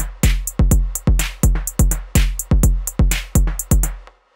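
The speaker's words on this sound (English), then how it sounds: "In this case, I'm sequencing drums with a note grid." A programmed drum machine pattern of kick, snare, clap and hi-hats repeats in a tight, steady groove: punchy booming kicks with crisp snappy hits on top, loud and alone, ending with a short decay.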